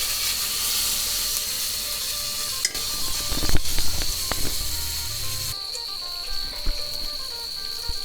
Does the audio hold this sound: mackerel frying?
yes